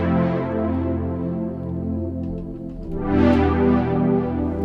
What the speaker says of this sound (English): It's a strings pad. It's from the Solid Tracks, and it sounds pretty nice.